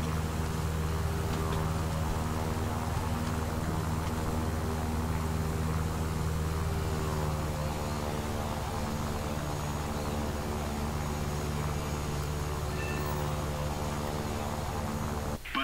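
Steady, loud engine drone with a deep propeller-like hum, sustained throughout without pause, like a propeller aircraft building speed on a runway before lifting off in the War Thunder video game.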